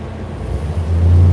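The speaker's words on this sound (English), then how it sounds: "Cars are very noisy, by the way." Noisy car on a street, a low engine rumble that swells as it passes close by, loud and steady with no talk.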